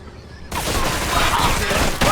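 Gunfire in a Mafia Trilogy shootout: after a quiet half second, a loud, dense volley of shots breaks out and rolls on without pause, with a sharp fresh burst near the end.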